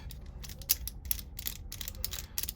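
Ratcheting flaring tool cranked to tighten a flare on 3/8 line with the bar removed, giving quick repeated clicking bursts of mechanical ratchet ticks, close and moderately quiet, no talking.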